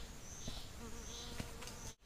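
Boca de Renda stingless bees buzz around their hive box, a faint, continuous insect hum with individual bees droning past close by, ending in a brief cutoff.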